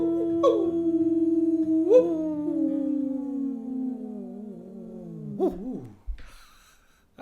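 Human voices imitate a wolf howl in a long, drawn-out call that slides slowly downward, with a couple of rising swoops and a wavering break near the end, close and fairly loud, followed by a brief noisy thump.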